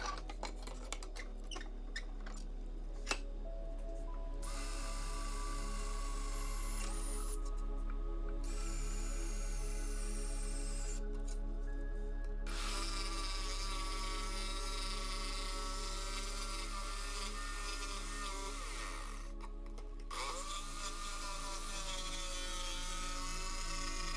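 A power drill whirs continuously for a long stretch while drilling into wood, pausing briefly a few times before spinning back up, steady and close.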